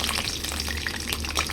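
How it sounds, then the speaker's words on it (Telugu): Cashews frying in ghee in a pan, a steady soft sizzle with light bubbling and occasional stirring, close and continuous with no talking. "వేసేసిన ఫ్రై అవుతుంది."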